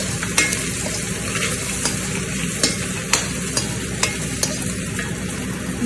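Prawns and onions frying over high heat for garlic prawn fried rice, a dense constant sizzle with sharp periodic clicks of a spatula striking the pan, near and unaccompanied by speech.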